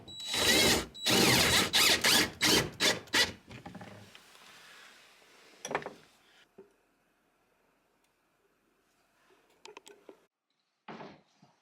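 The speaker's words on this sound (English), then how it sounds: "we'll use a pipe wrench to cinch her down" Metal stove pipe fitting on a tiny cabin wood stove being cinched down with a pipe wrench, a loud run of rapid grinding, ratcheting scrapes followed by a few sparse, quieter clanks and knocks in near silence.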